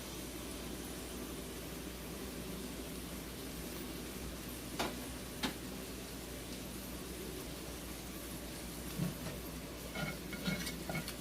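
Meat frying in a pan, giving a steady broadband sizzle that runs throughout, with a few brief clinks of utensils against the pan near the middle and end.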